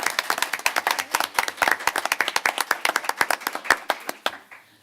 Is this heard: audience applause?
yes